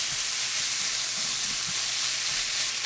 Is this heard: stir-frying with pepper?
yes